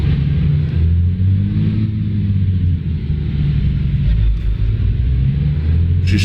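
A Peterbilt 350 truck in American Truck Simulator rumbles with a steady low engine drone while driving, loud and continuous with slight swells in revving and no talk.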